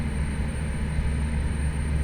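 Steady drone of propeller aircraft engines in a flight simulator game, a constant loud hum with low rumble and a thin high whine, unchanging throughout.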